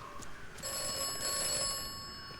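A telephone rings in the video game Atomfall, a steady electronic ring with layered tones that starts after a brief moment of quiet ambience and continues clearly to the end.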